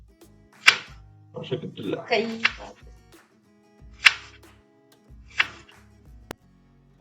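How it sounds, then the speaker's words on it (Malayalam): A knife chops onions and green chillies on a board in a home kitchen, giving a few sharp, separate strikes spaced seconds apart, with a voice talking in between. "ഞാൻ കഷ്ടപ്പെട്ട് സ്പീഡായിട്ട് അരിയാൻ ട്രൈ ചെയ്യാണ്"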